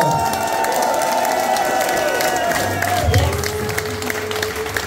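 A club crowd at a blues rock concert in a Glasgow garage venue applauds and cheers in a dense, steady wash of clapping at moderate distance.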